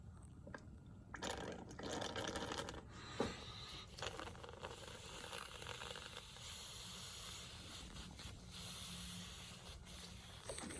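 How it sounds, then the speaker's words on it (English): Breath blown through a silicone hose forces leftover fuel out of the low-pressure fuel line of an Audi 4.0T engine, giving steady airy hissing and gurgling bursts that run for several seconds, close and fairly quiet. "I'm gonna blow out the rest of the fuel was in the line. Just use the silicone hose. I'm gonna blow right into it."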